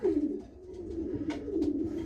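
Young racing pigeons coo in soft, repeated low calls, close by, with faint rustling and no talk.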